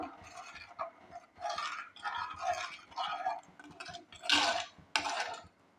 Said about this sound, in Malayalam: ഇനി നന്നായിട്ടൊന്നുകൂടി ഇളക്കി കൊടുക്കാം.